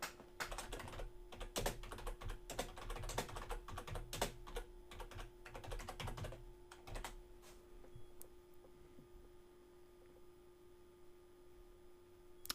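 Quick typing on a computer keyboard, close and clear, with bursts of key clicks over about eight seconds and then near silence apart from a faint steady hum.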